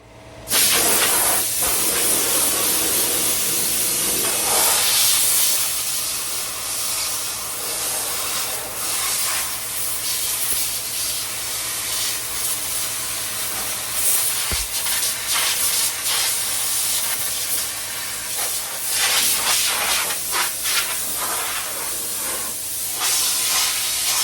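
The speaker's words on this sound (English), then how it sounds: "I'll blow it down with the air hose." Compressed air from an air hose blows down fresh epoxy primer on a 1972 VW Super Beetle, a loud, continuous hiss with fluctuating bursts as the nozzle moves over the body.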